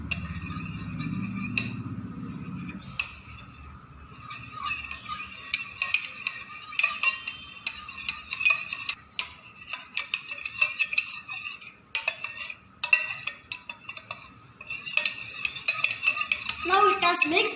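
Custard powder is mixed in a bowl with a spoon, giving rapid, continuous clinking and scraping of utensil against dish, fairly close and moderately loud after a brief low rumble at the start.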